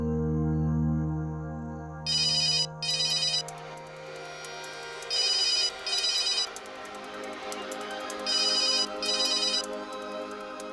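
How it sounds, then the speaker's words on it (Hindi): A phone ringtone chirps in three double bursts over steady background music, loud and close, with short gaps between each pair. "इस वक्त किसका फोन है?"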